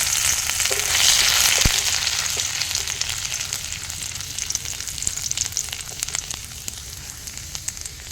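Chopped ginger dropped into hot oil in a pan, with a loud close crackling sizzle that swells early and then settles into a steady fizz with scattered pops.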